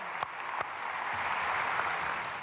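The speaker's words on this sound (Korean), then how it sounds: "다시 한번 크게 박수하겠습니다" A church congregation applauds during a dawn prayer service at Myungsung Church: a steady wash of many hands clapping, moderately loud and even, holding for a couple of seconds with a few sharper claps near the start.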